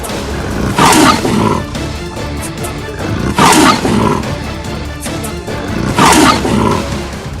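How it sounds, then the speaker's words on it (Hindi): A leopard lunging at a cage gives three loud, close, rasping roars spaced about 2.5 seconds apart, with a harsh, throaty texture and no voices. "देखिए दहाड़ते हुए पिंजरे पर ये तेंदुआ किस गति से लपका है।"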